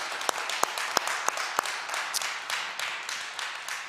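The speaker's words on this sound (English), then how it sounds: "let's give our panel a big round of applause." A church audience applauds a panel at a community health event on long COVID, a steady crowd clapping with a few sharper individual claps standing out near the start, moderately loud and without talk.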